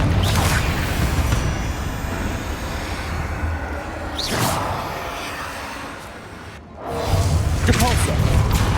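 In a Hogwarts Legacy battle, a Confringo fire spell bursts out as a heavy booming blast, with whooshing impacts and thuds recurring among dense game noise and voices.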